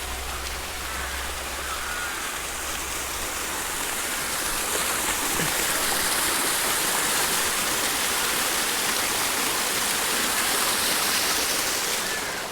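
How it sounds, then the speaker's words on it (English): Rainwater from the previous day's downpour rushes in a swollen stream and waterfall, a loud, steady broadband roar that fills the whole scene without pause, with no voices over it. "Look at all the rain, all the water coming out from all the rain we had yesterday,"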